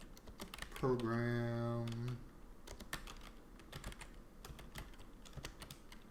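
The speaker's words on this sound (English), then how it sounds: "I can go in here and type in" Someone types on a computer keyboard, producing a steady run of crisp, close key clicks that continue throughout. A voice briefly speaks over the start of the typing.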